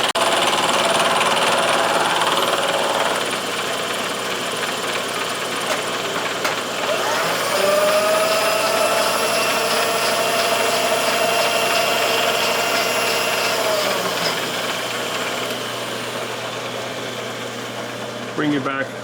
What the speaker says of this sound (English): 1¼ inch, 2 flute, end mill.